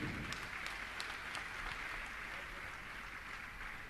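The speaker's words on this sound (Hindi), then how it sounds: "आपकी तालियां बहुत कम बज रही हैं।" A seated audience at a religious discourse event claps steadily in a continuous, fairly quiet wash of applause, with no voice on top.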